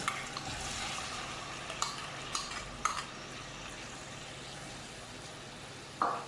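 A steady, soft sizzle of chopped tomatoes frying in a pan, with a few scraping stirs and light clinks of a utensil against metal.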